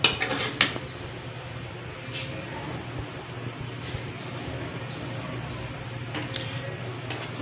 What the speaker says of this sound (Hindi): डिश आउट कर लेते हैं